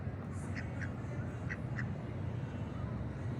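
A few duck quacks from a duck in a parking lot, moderately close, rising over steady low background noise.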